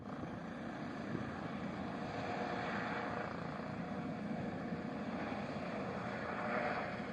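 Steady engine roar of an Air Greenland helicopter taking off, moderately distant, with a constant whooshing, wind-like rush and no voices, between Narsarsuaq and Qaqortoq.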